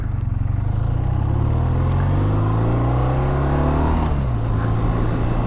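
A 2024 BMW R12 motorcycle is ridden gently with revs held low, its loud, close engine rumbling steadily as the pitch rises through a gear, drops at a shift, then climbs again under wind noise.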